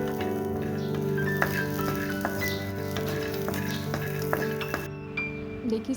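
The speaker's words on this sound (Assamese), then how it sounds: "কেইটামান কেঁচা বাদাম লৈছোঁ, শুকানে শুকানে ভাজি ল'ম" Raw peanuts dry-roast in a pan, giving off a faint, scattered rattle and light clinks as they shift and are stirred, set against a steady hum of background noise, with no talking.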